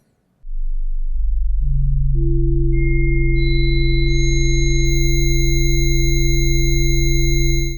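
Planetary orbits of the solar system rendered as a chord of pure sine tones, entering one after another from a low drone up to a high, thin pitch, then holding steady and loud with no voices.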